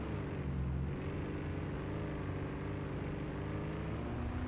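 Vehicle engine in the game Planetside 2, a steady low droning rumble with a slightly shifting whine, continuous and moderately loud with no talking over it.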